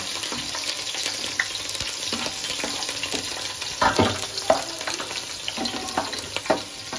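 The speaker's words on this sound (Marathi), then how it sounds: "मिरची मस्त परतून घ्या।" Green chillies frying in a pan for rishi bhaji: a loud, dense, continuous sizzle close by, broken by occasional stirring scrapes and pops, with no talk.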